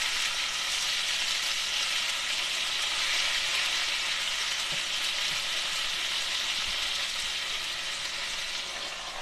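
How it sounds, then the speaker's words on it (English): Steady, dense sizzling of cubed potatoes frying in a pan, a continuous crackling hiss that stays even and close throughout with no voices. "Now that's steaming them, frying them at the same time"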